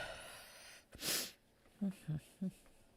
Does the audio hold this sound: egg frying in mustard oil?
no